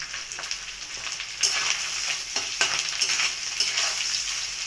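Chopped onions frying in a pan with dried fish (shutki), stirred steadily, giving a continuous close sizzle with scraping stir strokes recurring every second or so.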